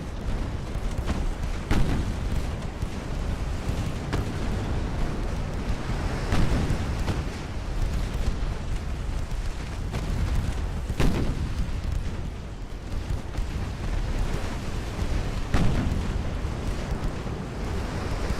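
Heavy naval main-gun salvos from 1890-era warships in Ultimate Admiral: Dreadnoughts, loud booming blasts recurring every few seconds over a constant rumbling battle roar with splashing surf, no talking.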